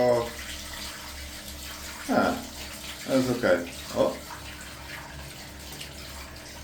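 Water is poured onto a new shower tray floor in a block-of-flats bathroom to test the drain, giving a steady splash and trickle with a few louder gushes as people talk briefly nearby.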